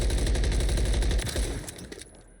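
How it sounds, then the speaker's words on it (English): Rapid automatic weapon fire in the video game Call of Duty Modern Warfare III, a loud, dense burst of shots lasting about two seconds before cutting off, with no talking. "just so you can see what the recoil looks like vertically, and then how it's gonna look when you're going to shoot it straight"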